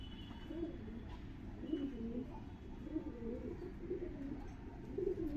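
Soft, low Madrasi pigeon coos repeat steadily over a constant background hum, with no talking.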